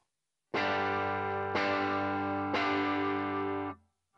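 Guitar chords through a JTM1 amp with the tone knob at half ring out in three separate strums, each sustained and lightly distorted, heard up close without talking before fading out.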